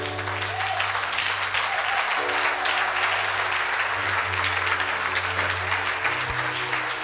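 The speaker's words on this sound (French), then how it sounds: "Si tu veux acclamer, acclame bien." A church congregation applauds, dense steady clapping from many hands filling the space for several seconds, with a low hum underneath.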